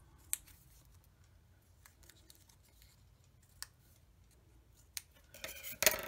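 Scissors snip along the sides of a paper cutout for a journal, a few quiet, sparse cuts up close followed by a louder flurry of rapid snips at the end.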